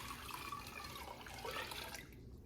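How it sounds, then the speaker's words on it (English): Hot water pours into a pot holding jars of blueberry jam, a steady close rushing splash that continues throughout and thins out near the end, with no talking. "I'm pouring hot water on top of these"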